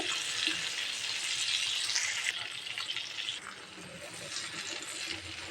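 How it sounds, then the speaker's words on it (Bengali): Shrimp frying in a pan produce a steady, soft crackling sizzle at close range, rising and falling slightly, with some stirring and no talk. "চিংড়িগুলা ভাজা হয়ে গিয়েছে"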